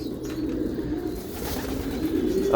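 Racing pigeons, female racers, coo in a low, steady murmur as they come down to land, close by and continuous, with light rustling and no speech.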